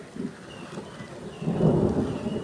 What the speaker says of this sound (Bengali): এই যে বৃষ্টি কিন্তু পড়ছে